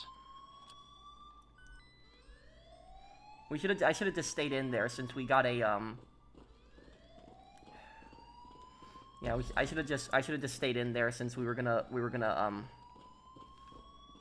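A rising and falling electronic alarm wails steadily throughout a heist in GTA Online, a siren-like tone running under two stretches of close, loud talking.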